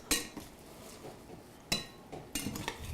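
A knife cuts through partly frozen chicken on a hard surface, giving several sharp, close clacks and knocks spread irregularly across the moment, with no talking.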